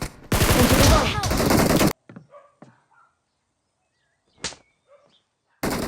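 Loud bursts of automatic gunfire from a PUBG Mobile fight fill the opening two seconds, followed by faint scattered game sounds, a single sharp shot near the middle, and another loud burst at the very end.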